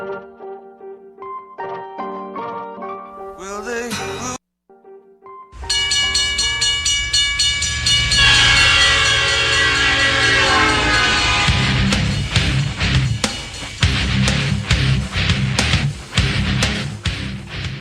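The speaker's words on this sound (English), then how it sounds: "Trains, trains, and more trains." A train passes close and loud with a steady heavy rumble and rail clatter that fills the clip, after a few seconds of quieter music at the start.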